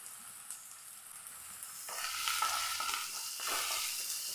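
Chopped green chilies and onions sautéing in a pan, a soft sizzle that swells louder midway as they are stirred, with faint scraping, close and quiet.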